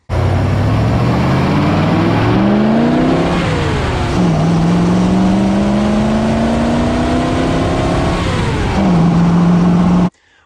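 A 1933 Dodge Brothers hot rod truck with progressive carburetor linkage drives along, its engine loud and steady, pitch climbing through each gear then dropping at the shifts, with no talk over it.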